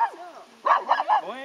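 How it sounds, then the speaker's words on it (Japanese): A dog on a riverbank beside construction work gives a couple of short, close barks and yips after a whimpering whine, with the calls rising and falling in quick succession. "吠えないの。"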